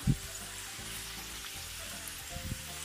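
Steady sizzling and crackling of meatballs frying in hot oil, with a few louder pops and clunks of stirring, close by and continuous.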